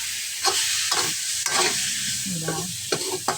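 Chicken goes into a sizzling Filipino monggo mung bean dish, with a loud, steady fry and a few clattering stirs of a utensil against the pot.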